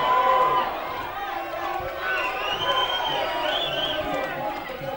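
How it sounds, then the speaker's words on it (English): Crowd at a women's fight in Rotorua, New Zealand, cheering and shouting continuously as two fighters trade kicks and combinations, a steady roaring wash of voices with rises in excitement. "Crowd urging the girls on."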